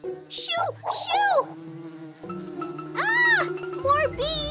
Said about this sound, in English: Ah! More bees! Go away!